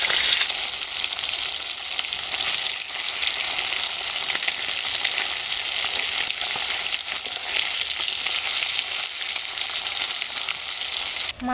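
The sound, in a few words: pabda fish frying in hot oil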